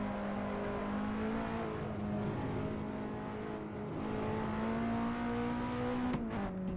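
A Nissan 180SX drift car driven fast through twisty sections of the Nürburgring, its engine holding a loud, steady, high-revving drone close by with slight pitch shifts and no voices.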